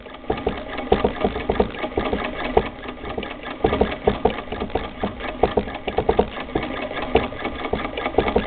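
A 1930s Singer Model 20 sewing machine runs steadily for several seconds, a loud, close, rapid mechanical chatter with a fast even rhythm and no speech over it.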